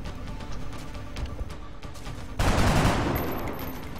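Gunfire from XCOM: Long War, a burst of shots erupting partway through, loud and sustained over a steady low game-ambience bed, with no talk over it.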